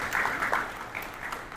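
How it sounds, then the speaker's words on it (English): An audience at a Tanzania trade and logistics business forum applauds its guests of honor: a short burst of crowd clapping, strongest at first and then easing to a thinner, softer patter. "A big round of applause to our guests of honor."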